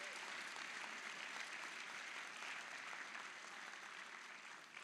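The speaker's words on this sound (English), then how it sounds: "he deserves a round of applause." A distant, faint wash of continuous applause from a large crowd at a spring convocation, thick and even throughout, easing slightly toward the end.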